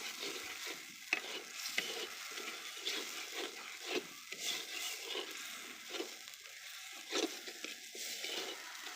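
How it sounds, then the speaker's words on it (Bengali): Ground spices with cardamom, cinnamon, bay leaf, onion and water sizzle in a clay wok for broiler chicken with tomato, a continuous wet bubbling fry with frequent scraping stirs. "সবগুলো মশলা খুব ভালোভাবে কিছুটা সময় ধরে আমি কষিয়ে নিচ্ছি"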